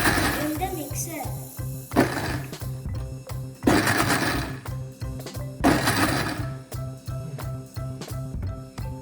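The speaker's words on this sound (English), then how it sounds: "Then mix all of it for 1 or 2 minutes in the mixer." A kitchen mixer whirring in short pulsed bursts as it blends rice flour, milk, cardamom powder and vanilla essence for ice cream; the motor surges and drops repeatedly, loud and close, with a voice talking over it at times.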